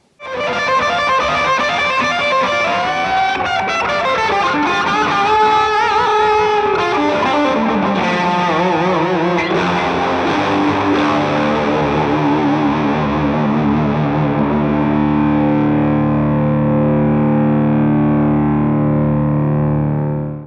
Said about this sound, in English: you can easily use each effect independently, or add a little flavor to your amplifier tone when needed, or you can mix them together